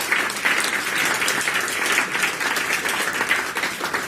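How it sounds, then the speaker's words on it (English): A conference audience at a book launch gives a sustained round of applause, dense and even clapping filling the room from start to finish. "So a round of applause for the crew."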